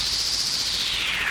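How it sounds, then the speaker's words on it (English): Aggressive phaser effect sweeping across a steady white noise sample, a bright hiss whose band slowly glides downward over a second and a half, constant and alone with no voices. "Aggressive phaser."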